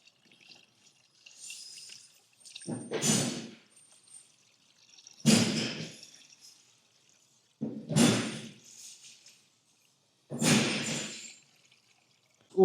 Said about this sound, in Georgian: ახლა ჩავასხოთ.